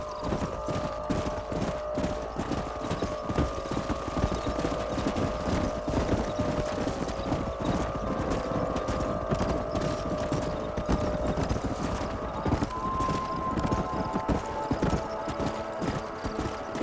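Steady, rhythmic hoofbeats of a horse in the video game Red Dead Redemption clip-clop at a trotting pace, with a faint neigh in the background and no talking.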